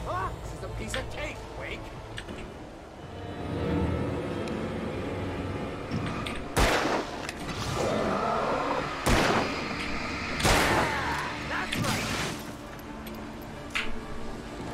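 Gunfire in the horror video game Alan Wake, several loud sharp shots ringing out one at a time among softer clanks and thuds, while a person talks over the action.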